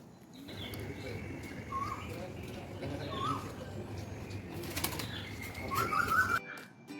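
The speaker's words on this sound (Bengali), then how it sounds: "শুনতে পাচ্ছেন পাখির ডাক?" Birds call around a resort at Diamond Harbour, including a koel cuckoo, with a few short calls and a flutter of wings over faint ambient noise, fairly distant and quiet.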